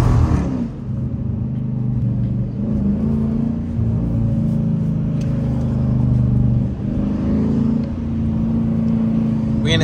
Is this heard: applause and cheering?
no